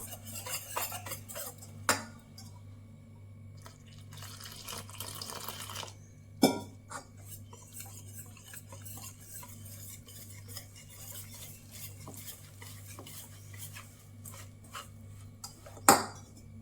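A utensil scrapes and clinks in a bowl while mixing batter of gram flour, rice flour, chilli powder, salt and turmeric for cauliflower bajji, soft and close with a few louder knocks against the side.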